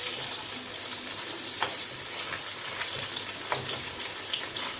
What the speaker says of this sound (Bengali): আমি কাতলা মাছ একটু কড়া ভাজাই পছন্দ করি।